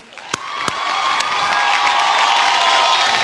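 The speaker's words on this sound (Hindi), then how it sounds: "जोरदार तालियां।" An audience at the Reliance Star Guild Awards in a Mumbai studio bursts into loud applause and cheering, building within a second into a sustained roar of clapping with scattered whoops.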